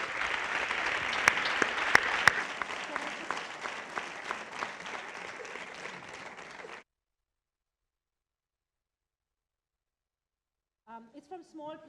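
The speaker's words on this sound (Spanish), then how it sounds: "Entonces, un fuerte aplauso a las dos." Loud audience applause for two speakers at a film event in a hall, with a few sharp standout claps early on. The clapping continues for about seven seconds, then gives way to silence, and speech begins near the end.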